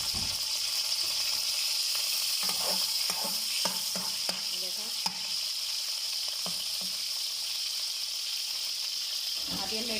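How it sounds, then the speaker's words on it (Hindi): Ginger garlic paste sizzles in hot oil for a Chinese-style fried rice while a spoon scrapes and clicks against the pan in an irregular stirring rhythm, with a constant bright frying hiss throughout. "ये देखें अब ये ऑयल गर्म हो गया। उसके बाद मैं अदरक लहसुन का पेस्ट डालने लगी हूँ।"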